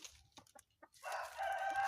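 Chickens in a vegetable garden give a few quiet, scattered clucks, then break into a longer, louder squawking call, all faint and at a slight distance with no voices.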